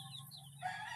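A hen gives short, close clucking calls on a farm, brief and fairly quiet against a faint low background hum.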